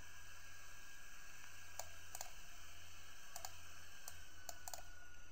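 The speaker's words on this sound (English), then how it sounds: "Hit T on the keyboard." Computer keyboard keys tapped several times at irregular intervals, quiet crisp clicks in pairs over a steady fan hum.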